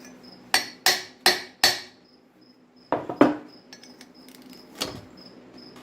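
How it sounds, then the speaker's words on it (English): A hammer bangs on metal during repair of a cheap tractor with a blown seal: four quick, loud, ringing strikes, a pause, then a few more scattered clanks, with a high steady insect-like whine running behind. "Hammer time."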